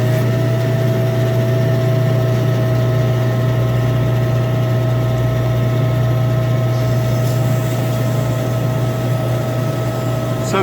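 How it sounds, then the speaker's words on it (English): Dual-drive sawmill saw powered by 15-horsepower electric motors runs at a steady, loud hum with a constant drone and whine, unchanging throughout with no cutting bursts. "this is a dual drive saw we built"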